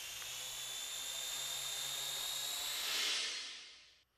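A small drone buzzes steadily with a high-pitched whine that rises slightly before it falls to the ground and abruptly cuts off; quiet and alone.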